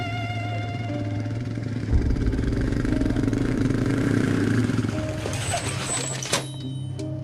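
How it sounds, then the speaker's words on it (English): A motorcycle engine idles steadily with a low, even rumble, nearby and moderately loud, with a slight rev and a few sharp knocks and clicks near the end. "A man on a motorcycle pulls up."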